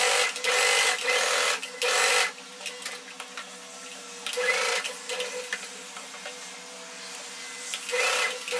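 Sewing machine stitching along a blouse neckline, running in several loud bursts of steady whirring separated by short pauses, close and alone with no talk.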